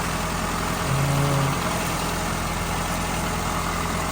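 A car engine idles right after a CARB-legal catalytic converter is installed, giving a steady, even rumble close by with no talk throughout.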